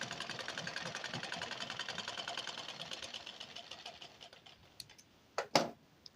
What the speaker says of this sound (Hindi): फिर हम एक सूत की सिलाई इस पर लगा रहे हैं।